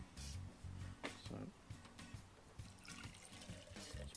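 Water splashing and trickling into a Lifesaver Liberty water filter bottle, uneven bursts of pouring and sloshing, close and moderately quiet.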